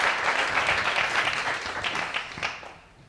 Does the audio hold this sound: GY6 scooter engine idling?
no